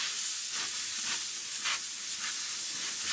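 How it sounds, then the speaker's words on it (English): Compressed air blows out a Dodge Ram 1500 fuel pump part after a spray of WD-40, a thin high hiss in several short bursts of varying strength. "Blow it out with air."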